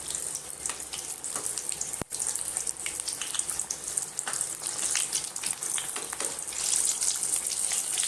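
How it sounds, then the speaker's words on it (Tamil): Samosas frying in hot oil give a steady, close sizzle and hiss that runs throughout, with one brief sharp click partway through. "இதில் பொரிச்சு எடுத்துடலாம். இப்போ சமோசாவை திருப்பி விட்டுக்கலாம்."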